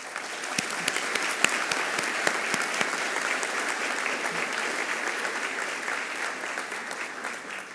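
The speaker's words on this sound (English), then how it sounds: "Please join me in recognizing students receiving Latin honors with a round of" Graduates and families at a 2016 early college graduation ceremony give sustained applause for students receiving Latin honors, a broad, even wash of many hands clapping with occasional sharper claps standing out nearby.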